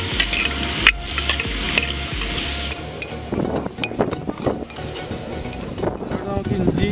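Crushed shallots, green chili and curry leaves sautéing in a pan, with a close sizzle, scraping stirs and bursts of rustling, plus some wind noise on the microphone and a voice faintly in places.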